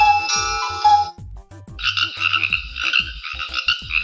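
Repeated frog croaks in quick rhythmic bursts, close and loud, with a high trilling call layered over them, and no voices.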